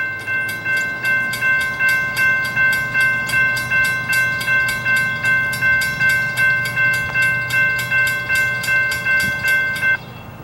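A CSX freight train heads northbound close by, sounding a long, loud steady horn over a fast rhythmic clatter of wheels on rail joints until it cuts off near the end.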